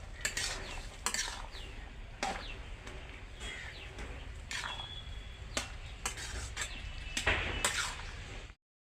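Mixed winter vegetable curry being stirred in a pan, with steady scraping and clinking of a spoon against metal over a low sizzle, a string of sharp knocks at irregular intervals, no talking.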